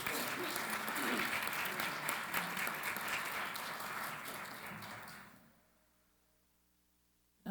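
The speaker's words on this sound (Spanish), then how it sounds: "Un fuerte aplauso para Amanda Griffith." An audience at a legislative conference on children's rights applauds steadily for about five seconds, dense clapping that fades out into near silence.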